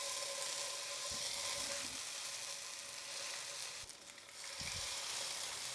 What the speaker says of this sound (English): I'm gonna start with the steak on this fatty side